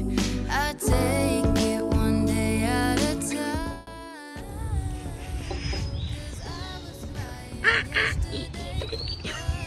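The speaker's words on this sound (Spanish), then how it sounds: "Sonido de pájaro." Bird calls ring out alone in a busy, layered mix, with honking, quack-like cries standing out clearly over a steady background.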